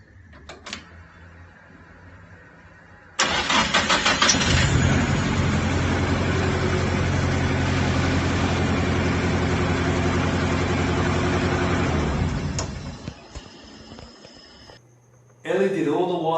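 A modified Ford Escort MK2 engine, producing about 300 horsepower at the wheels, cranks and fires for its first startup, then runs loud and rough in a sustained roar before cutting off, with a mechanical click and a brief restart at the end.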